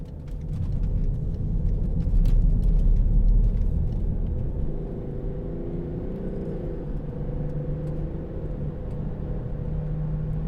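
A 2009 BMW X6 30d xDrive diesel SUV accelerating on a road, heard from inside as a deep, loud engine rumble that swells for a few seconds, then settles into steady road and tyre drone.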